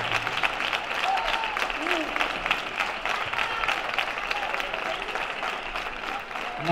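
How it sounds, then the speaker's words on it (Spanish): Audience at an April fair celebration applauding an Andalusian choir, a full, steady burst of clapping from a crowd, continuous and fairly loud across the whole stretch. "Un aplauso para ellos."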